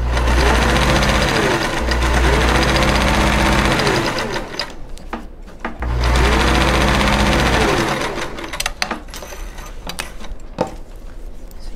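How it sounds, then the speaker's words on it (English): A sewing machine stitches the lining of a zipper pouch along a raw edge, running loud and steady in two long bursts separated by short pauses filled with fabric handling and light clicks. "right now I'm stitching on the lining side with the raw edge right underneath"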